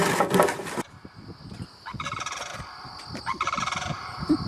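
Turkey-like birds, called blue-headed corn cranes, gobble in repeated bursts of rattling calls at a bar and grill, loud and close, with several birds calling over one another after a brief opening burst.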